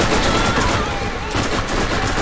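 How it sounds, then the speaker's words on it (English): Dense, rapid video-game gunfire from Borderlands rattles on continuously for a couple of seconds, a busy stream of overlapping shots with no pauses. "Oh, you're shooting at them."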